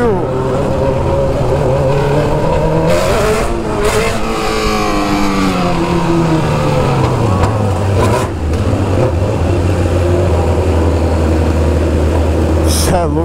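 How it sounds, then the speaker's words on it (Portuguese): Heavy city traffic packed with motorcycles, with a steady engine drone and repeated revving and acceleration from passing bikes close by, loud and continuous throughout. "É louco, tem moto demais, rapaziada."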